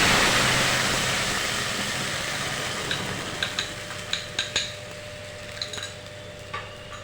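A spice paste stirred into hot mustard oil in a wok: a fading sizzle, then clinks and scrapes of a spoon against the pan in a loose, irregular rhythm, with no talk.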